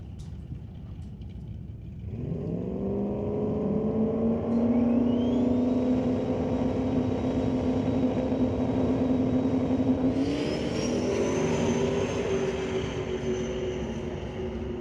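Two Ford Mustang drag race cars launch on a qualifying run, engines snarling up from a low rumble into a loud, rising howl that climbs through a shift and keeps screaming down the strip.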